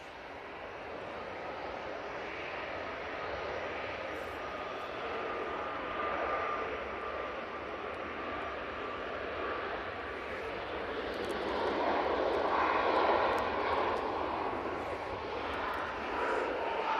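An airliner arriving from Malta touches down at Manchester Airport, a broad steady jet roar that holds throughout and swells slightly louder toward the end, heard alone without talk.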